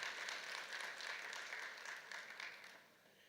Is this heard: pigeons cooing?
no